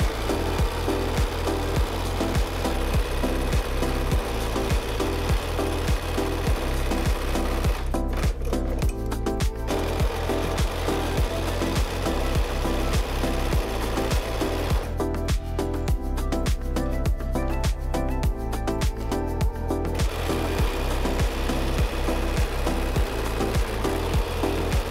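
Sewing machine chain piecing quilt fabric, a steady fast mechanical whirring and clatter running continuously at close range, with no talking.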